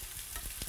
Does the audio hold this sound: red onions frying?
yes